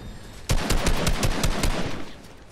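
SMG fire in the Fortnite video game: a rapid burst of about ten sharp shots in quick even rhythm, loud and close, followed by a short fading tail.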